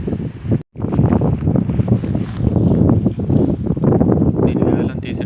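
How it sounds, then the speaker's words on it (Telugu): A strong cyclone wind gusts steadily and loudly across a riverside village fishing spot, with a rough, roaring rush that barely lets up. "తుఫాన్ కారణంగా గాలి జోరున వీస్తూ ఉంది."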